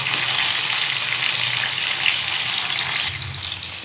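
Tomatoes fry in a hot pan for a pork binagoongan, giving a steady, close sizzle with soft crackling that goes on without a break.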